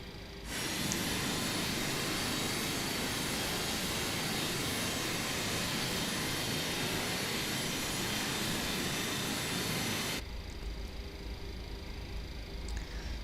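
Steady roar and whine of a TWA Boeing 727's jet engines while taxiing in a flight simulator, loud and continuous for about ten seconds before dropping to a quieter hum.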